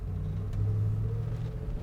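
A 1979 Chevrolet Blazer truck drives through lunchtime traffic, its engine giving a steady low rumble with a slight swell midway, close and continuous with no talking.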